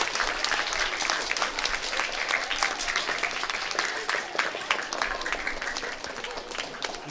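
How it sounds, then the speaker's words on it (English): Sustained, dense audience applause at a primary school assembly for Year 6 students, a steady wash of many hands clapping close by for the whole stretch. "Could you give the students of Year 6 Erskine a round of applause,"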